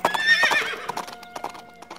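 A horse runs off in a frenzy, hooves clip-clopping quickly while it lets out a loud, shrill whinny, close by, with no talking.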